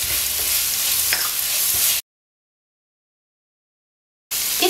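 Wilted onions fry in a pan while sumac, salt and black pepper are stirred in, giving a steady close sizzle with scraping stir sounds that cuts off into silence partway through and resumes at the end.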